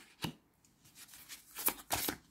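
A tarot card picked up from a spread and turned over, a few soft papery flicks and slides close by, quiet and brief, with no voice.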